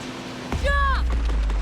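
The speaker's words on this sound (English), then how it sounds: "We're gonna jump onto a moving train?" A moving train in the Fast & Furious Crossroads video game, heard as a sudden heavy low rumble with a brief descending whistle-like tone over it, loud and close.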